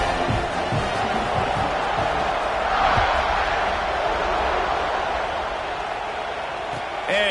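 A football stadium crowd at a Texas A&M game roars and cheers after a touchdown drive, a dense, steady wash of many voices that swells slightly around the middle and carries on throughout.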